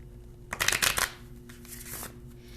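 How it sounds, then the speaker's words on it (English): A quick riffle of playing cards up close, a sharp fluttering burst followed by softer squaring of the deck. "All right, one more shuffle."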